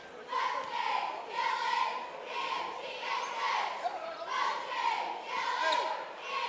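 A crowd in a gym cheers and roars at a Kentucky high school basketball game between Madisonville-North Hopkins and McCracken County, a steady din that swells and dips in broad waves throughout.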